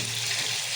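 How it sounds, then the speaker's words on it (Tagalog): Tilapia frying in a pan, a steady close hiss and crackle of hot oil that fills the short moment without pause or voices. "So, ayan, nagpiprito tayo."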